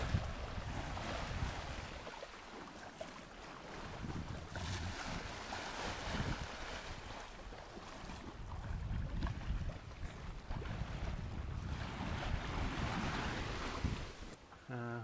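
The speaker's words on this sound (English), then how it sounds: "we got about 8 knots of true wind." Wind and ocean waves wash steadily around a sailboat on the open sea between Hawaii and Washington in about 8 knots of true wind, a continuous broad rushing with surging swells and microphone buffeting.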